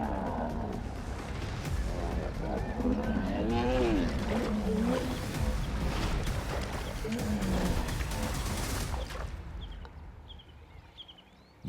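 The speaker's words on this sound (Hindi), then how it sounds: "इनकी दहाड़ पूरे दलदल में गूंजती रही।" Large animals roaring in a swamp during a prolonged fight, deep rumbling bellows and groans echoing continuously over dense background noise, tapering to quieter calls near the end.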